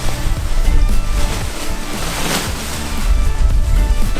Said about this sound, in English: You know it's strong wind when you can do that.